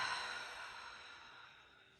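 A slow, soft exhale of breath fades gradually over about two seconds, close and quiet with no other sound.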